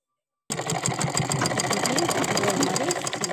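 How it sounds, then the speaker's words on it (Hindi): A sewing machine stitching a trouser runs steadily after a brief silence, its rapid even needle rhythm close and continuous while a person talks over it. "देखिए ऐसा करके सिलाई लगानी है हमें।"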